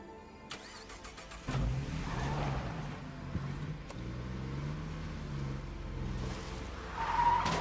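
A truck drives and skids in the zombie survival game State of Decay, with a steady mid-pitched engine drone and a sudden louder burst of tire skid partway through, followed by continued engine noise.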